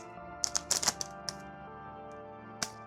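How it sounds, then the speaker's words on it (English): A UniFi power supply being unwrapped from its packaging, giving close, sharp crinkles and taps in a quick cluster, then a pause before one more crisp rustle. "let me unbox the power supply. Or unwrap it technically, not unbox it."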